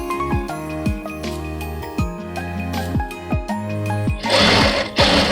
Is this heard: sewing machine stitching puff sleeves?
yes